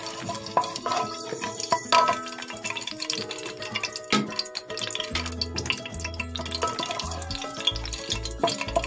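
A bay leaf, green chillies and a cinnamon stick fry in a pan, a close crackly sizzle broken by irregular clinks and scrapes of a utensil, with low knocking thumps in the second half.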